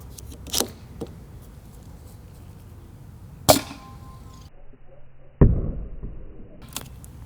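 Nerf pistol firing foam darts at a target: three sharp, loud cracks spaced a few seconds apart, the last followed by a brief rattle, with no talk.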